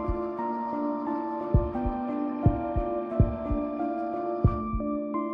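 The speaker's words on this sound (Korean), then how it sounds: "불규칙했지만 선명하게 심장 뛰는 소리가 고막을 울렸다" A heartbeat sound effect from an audiobook, with low, thumping beats that come at an uneven pace under a sustained musical hum. There are about a dozen beats, moderately loud, with no speech.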